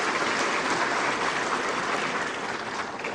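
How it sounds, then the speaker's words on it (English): Audience applause for Ghana's Minister for Finance Ken Ofori-Atta at the 30th Afreximbank Annual Meetings, a dense, steady wash of many hands clapping at once that fades slightly toward the end. "A round of applause."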